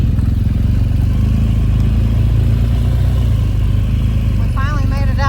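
A Harley-Davidson Street Glide motorcycle rumbles steadily along a gravel road, its engine droning loud and constant under heavy wind buffeting, with a brief rising whine near the end.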